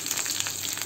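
Hot oil tempering with curry leaves and red chillies hits a bowl of chutney, giving a steady, close, fairly loud sizzle and crackle with no talking.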